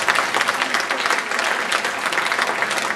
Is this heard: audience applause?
yes